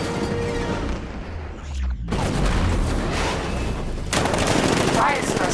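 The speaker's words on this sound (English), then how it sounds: ".60mm cannon operational." Heavy cannon fire from a 60mm gun in the video game Batman: Arkham Knight, with loud, dense bursts of booming shots that break off briefly and then resume.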